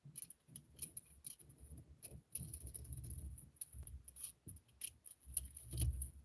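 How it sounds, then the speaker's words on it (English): Sharp hobby knife slicing thin metal foil on a Revell 1:48 P-51D Mustang model plane, a close, quiet run of short scratchy cuts and crinkles in irregular bursts. "This is why I use a sharp knife, because it will cut this stuff easier."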